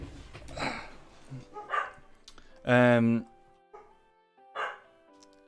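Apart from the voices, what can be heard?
dog barking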